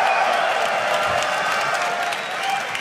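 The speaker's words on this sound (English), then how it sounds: "Rightful applause after that victory for you guys." A crowd at a Counter-Strike finals esports match claps and cheers in a dense, steady wash of applause that holds at a constant level for a few seconds.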